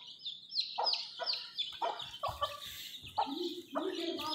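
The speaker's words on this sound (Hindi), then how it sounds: "मासूम से छोटे छोटे मुर्गी के बच्चे हैं, देसी हैं ये सारे।" Small desi chicken chicks peep in a series of bright, rising calls that come in quick bursts, close and fairly clear, with some lower clucks and rustling mixed in.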